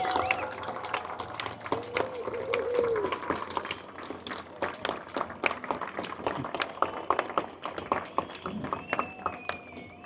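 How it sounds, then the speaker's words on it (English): A crowd at the Sail Boston parade of sail cheers and claps for Argentina's tall ship Libertad, producing a dense, steady patter of applause with whistles and shouts mixed in throughout. "let's give her a cheer"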